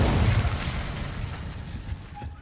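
A fire spell cast in the Hogwarts Legacy video game: a dense, loud burst of roaring, crackling rumble that holds steady for a couple of seconds before slowly thinning out, with no voices.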